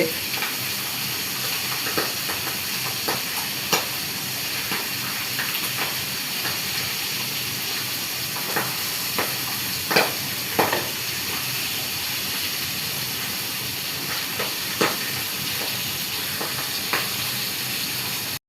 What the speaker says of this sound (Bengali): তেল ছিট করছে